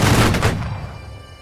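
Musket volley fired together by a line of infantry in the game Holdfast, one loud booming crack that rolls off into a fading echo.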